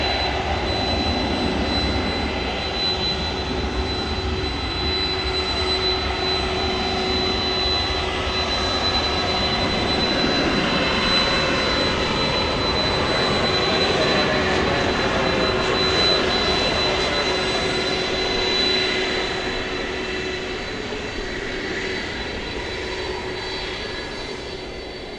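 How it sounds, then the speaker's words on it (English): A Cargolux Boeing 747-8 cargo jet from Anchorage roars loudly and steadily at a nighttime airport, its engine drone holding for the whole stretch with a high whine on top before easing slightly at the end. "This is going to be Cargo Lux. Flight 8 from Anchorage"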